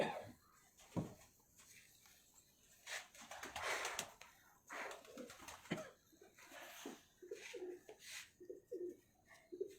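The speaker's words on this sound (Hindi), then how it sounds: "ये मियाँ साहब के लाल परी कबूतर हैं जो 39 मशहूर हैं" Lal Pari pigeons coo softly nearby in scattered low calls with wing rustles and handling noises, fairly quiet and intermittent.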